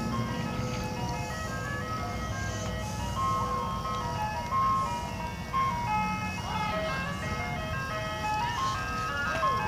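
An ice cream truck in an old Chevy van plays the picnic song, a tinkling melody carried over a low motor rumble, fairly steady and moderately close in a quiet street.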